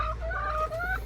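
A cross-bred rooster clucks in a farm setting, a short close series of throaty calls with a steady low background noise.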